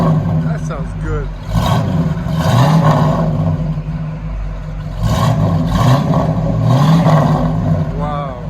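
A 1973 Ford Mustang Mach 1 V8 with true dual Flowmaster Super 10 exhaust idles with a deep burble and revs hard twice, each rev rising and falling, while people talk close by.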